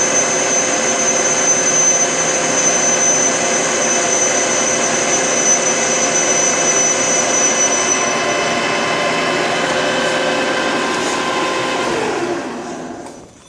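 A Harrison M300 metal lathe runs steadily through the end of a cut, a loud constant mechanical whine with a high-pitched tonal edge that fades partway, then the machine winds down and the sound drops away at the close.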